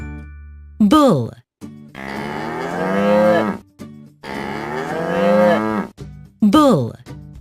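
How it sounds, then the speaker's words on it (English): A bull moos repeatedly, deep drawn-out lowing calls with short grunting bursts between them, loud and close, in a sequence of animal sounds. "Bull."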